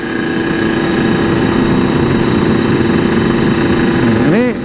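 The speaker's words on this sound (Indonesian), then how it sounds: "Ini nahan RPM enak banget nih suaranya nih." A motorcycle engine is held at steady high revs at a petrol station stop. The drone is loud, close and continuous, with a brief pitch dip near the end as the throttle eases.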